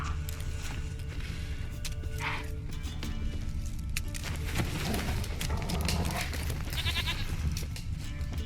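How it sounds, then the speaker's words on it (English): Goat in the Witcher 3 video game, bleating in short wavering calls over a constant droning game ambience, moderately near. "Here, goat."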